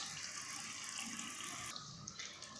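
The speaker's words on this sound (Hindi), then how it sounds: "ये इमली का पानी है जो हमने तकरीबन 8 से 10 गुठलियाँ भिगो के रखी थी। इसका पानी है, हम इसे साइडों पे डाल देंगे" Tamarind water, from about eight to ten soaked pods, poured into a pot of tinda: a steady, continuous pouring and splashing of liquid, close and even throughout.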